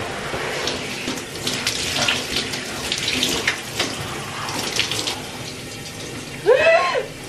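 Water running from a tap while hair is washed, a steady close rushing splash with shifting flow, ending with a brief squeaky gurgle as the stream changes.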